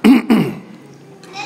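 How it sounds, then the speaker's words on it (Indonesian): A single person coughs twice in quick succession, close and fairly loud, followed by a quiet room with faint background noise. "Sorry batuk."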